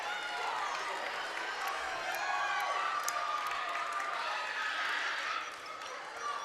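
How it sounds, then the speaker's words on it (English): Crowd noise at a high school volleyball semifinal, Clarion Limestone vs Clarion Area, with the bench and fans cheering as a continuous, moderately loud roar, heard under a commentator's talk. "can hear the Clarion bench excited"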